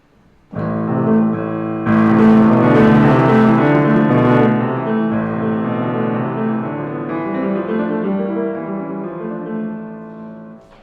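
Piano sounds a full, layered passage with low sustained bass, a middle line and busy upper notes, swelling then slowly fading over about ten seconds.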